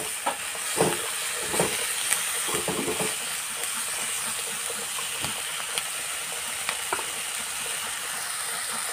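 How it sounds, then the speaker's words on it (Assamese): Ant eggs fry in a pan, making a continuous soft sizzle broken by scattered bubbling pops and crackles at an even, moderate level, with no voices. "অকণমান দেৰি ৰখাম, তাৰপিছত আমাৰ পৰুৱা টোপৰ ভাজি হৈ যাব।"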